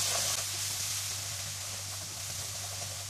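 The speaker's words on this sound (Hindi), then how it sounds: "जब प्याज लाइट ब्राउन हो जाए तो इसमें हम लहसुन अदरक का पेस्ट शामिल कर देंगे। इसको थोड़ी देर हम भून लेंगे।" Garlic ginger paste frying with light-browned onions in a pan for chicken veg dum biryani makes a steady, loud, close hiss under a low hum, with a little stirring.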